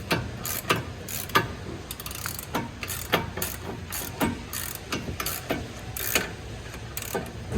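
A ratchet wrench working stubborn front brake bolts loose on a 2014-2018 Infiniti Q50, rapid clicking pawl strokes repeating in short bursts throughout, loud and close with no talk.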